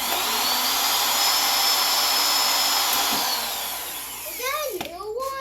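A power drill whirs loudly and steadily in a home workshop during a small quadcopter repair, holding a constant high whine before spinning down near the end as a voice is heard.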